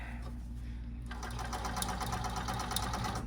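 A blind hemmer machine hums and whirs steadily, sewing the bottom hem of a wide drapery panel, the motor's note rising slightly after the first second and holding close and moderately loud.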